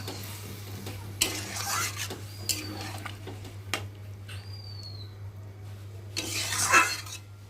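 Kochur loti cooked in mustard paste being stirred in a pan after a little water is added: scattered scraping and clinking of a spoon against the pan over a low hum, with soft bursts of sizzle.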